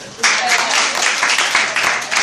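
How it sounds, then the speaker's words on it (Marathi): A group claps loudly and continuously during a talk, the dense patter of many hands starting abruptly and holding steady to the end. "टाळ्या वाजवते."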